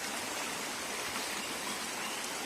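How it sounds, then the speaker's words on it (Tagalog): A flowing stream in a rural area after flooding rain, a steady broadband rush of water heard close and continuous with no voices. "May sapa na mo diri."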